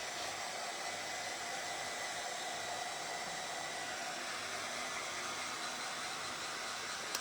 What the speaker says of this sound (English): All right, so we're gonna dry this up,